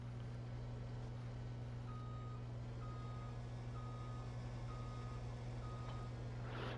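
Truck reversing alarm in Farming Simulator 22 beeps five times at an even pace, clear and mid-level over a loud, steady low engine drone from the idling truck.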